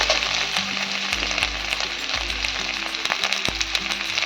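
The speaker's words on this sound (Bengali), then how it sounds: "আলুগুলো আমার ভাজা হয়ে গেছে।" Potatoes frying in hot oil for a vegetarian green potato curry, giving a steady close sizzle with light stirring scrapes throughout, no voices.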